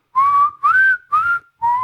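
Someone whistles four quick, rising chirp-like notes in rapid succession, each short and clear with brief gaps, close up and loud, with nobody talking.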